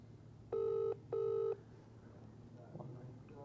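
Two long electronic ringback tones from a telephone call to a mobile number, each lasting about half a second with a short gap between them, heard clearly over a low steady hum and followed by faint background noise.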